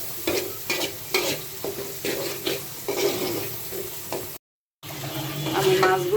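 Ground ginger and spices are sautéed in a pan, with loud, close sizzling and repeated scraping stirs at an even rhythm. A brief silent gap breaks the sound, and then the frying comes back louder.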